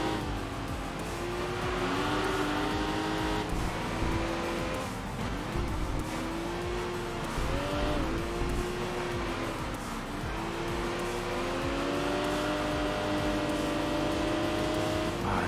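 Race cars roar through a lap in the video game Enthusia Professional Racing. A Caterham closes in to pass. Engine tones rise and fall continuously, with some tire squeal, loud and steady throughout.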